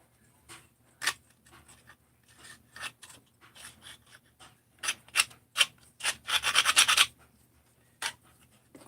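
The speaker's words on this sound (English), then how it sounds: "please do your own deburring" Deburring metal kit parts by hand, heard as quick, irregular scraping and rubbing strokes, some sharp and isolated, with a denser flurry of scratching near the end. The strokes are close and moderately loud, with no talking.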